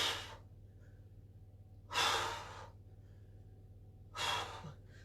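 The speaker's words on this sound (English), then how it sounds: "Try and get your breathing going, so we're breathing out with the exertion." Two strong, broadband breaths spaced a couple of seconds apart, each rising sharply and tapering, with a steady low hum underneath, as someone exhales and inhales through crunches in a no-equipment HIIT workout.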